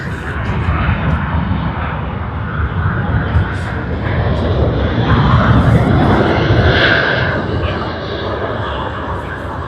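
Aircraft engines roaring at Sydney Airport near the domestic departures runway, a loud, steady broadband rumble that swells slightly midway and holds for the full stretch.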